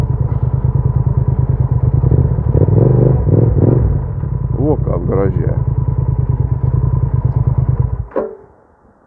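A motorcycle engine thrums loudly and steadily at close range while riding, with brief rises in pitch, and a short spoken exclamation partway through before the engine note drops away near the end.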